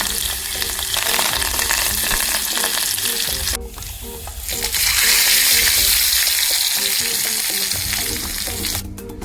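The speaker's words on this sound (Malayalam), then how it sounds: "നമുക്ക് ചെറിയ ഉള്ളി അരിഞ്ഞ് ഇട്ട് കൊടുക്കാം. കറിവേപ്പില ഇട്ട് കൊടുക്കാം." Chopped shallots and curry leaves fry in hot oil in a pan for a Kerala mango pulisseri, a loud steady sizzle with stirring, briefly dipping midway before surging back.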